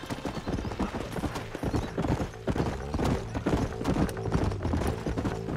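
Horse hooves gallop across terrain in Red Dead Redemption, a fast, steady clip-clop rhythm running throughout with occasional whinnies mixed into game music and ambience.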